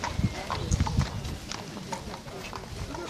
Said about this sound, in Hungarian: Lovak elő!